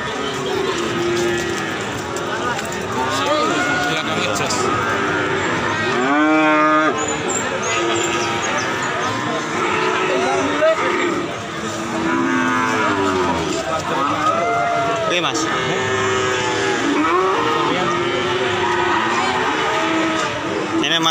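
Cattle moo repeatedly at a livestock sale, several long, loud lowing calls close by amid a busy outdoor scene, with people talking throughout.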